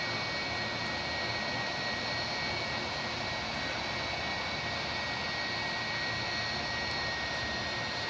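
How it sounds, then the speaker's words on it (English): A Rolls-Royce RB211 jet engine on an airliner at Hamburg Airport powering up, a loud, steady broadband roar with a high whine held throughout, heard alone without talk. "RB211's most legendary sound in aviation. Listen to the power up, listen to the power up."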